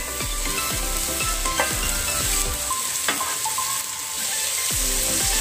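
Beans fry lightly in a wok over a continuous close sizzle, while a spatula repeatedly scrapes and clacks against the metal and no one talks.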